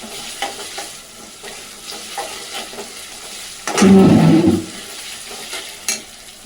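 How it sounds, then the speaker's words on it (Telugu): Ginger-garlic paste and onions fry in a pan while being stirred, a steady sizzle with a louder, brighter burst of hissing partway through and scraping touches around it, with no talking. "ఒక స్పూన్ అల్లం ఎల్లిగడ్డ పేస్ట్, ఎల్లిపాయలు, ఇది పచ్చి వాసన పోయే వరకు మంచిగా గోలించుకోవాలి."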